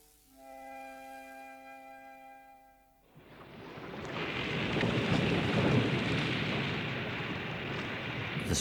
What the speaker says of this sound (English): The storm had lasted for almost a week, and it was getting worse.